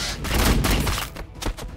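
Gunfire in the strategy video game Warhammer 40k Battlesector, a dense, loud fusillade of overlapping shots and heavy thuds rolling continuously for under two seconds, with no talking over it.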